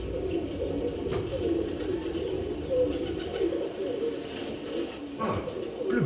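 Pigeons coo steadily in low, rolling calls across the whole stretch, close and continuous, on a stage show with faint background noise.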